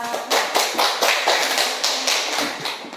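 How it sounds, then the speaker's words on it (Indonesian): A small classroom group claps in an uneven, steady rhythm, about a dozen distinct claps close by, with no talking over them. "Tepuk tangan untuk Mbak Ika."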